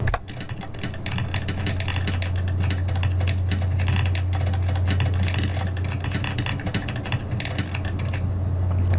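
Computer keyboard keys tapped automatically by a Python script, a fast, even stream of clicks at close range over a low steady hum.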